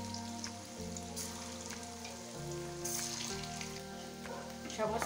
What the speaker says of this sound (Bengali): এমনি করে একদম মিডিয়াম জালে ভেজে নেব।